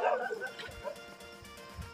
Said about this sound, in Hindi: एक कुत्ता और भौंक रहा है।